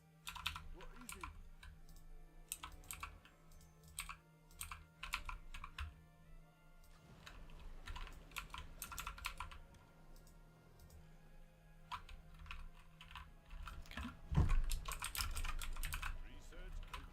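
Computer keyboard typing during a Civilization game, quiet bursts of rapid clicking keystrokes in runs with short pauses, under a low steady hum and some soft background game sounds.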